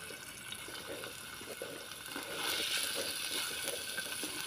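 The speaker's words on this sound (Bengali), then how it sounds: "এবার আমি পনিরের টুকরোগুলো এর মধ্যে দিয়ে ভালো করে ভেজে নেব।" Paneer pieces frying in hot oil give a soft, steady hiss and sizzle with faint crackles, swelling slightly louder partway through, with no talk.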